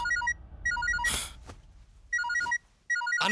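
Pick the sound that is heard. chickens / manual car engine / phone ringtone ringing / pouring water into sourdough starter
phone ringtone ringing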